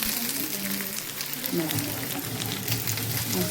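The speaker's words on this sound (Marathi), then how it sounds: "ह्या पाच तेलात टाकलं मस्त आता ह्याला हलवून घेते इकडं वांगण इकडं भिंडी" Stuffed brinjal and okra fry in oil while being stirred, a close, continuous crackling sizzle with the scrape and shuffle of the stirring running through it.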